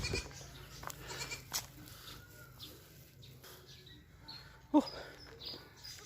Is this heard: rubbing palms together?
no